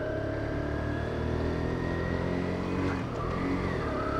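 A Kawasaki Z125 Pro mini motorcycle being ridden, its small engine droning steadily with a brief dip and rise in pitch as the rider shifts, loud and continuous with wind noise and no talk.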